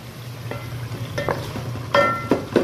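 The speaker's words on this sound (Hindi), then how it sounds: "थोड़ा सा फ्लेम हाई करना है और इसको मज़ीद अच्छे से भूनना है" Tomatoes and onions fry in a pan for aloo gosht shorba as a spoon scrapes and stirs, giving a low steady sizzle broken by a few sharp clinks and scrapes, close and without speech.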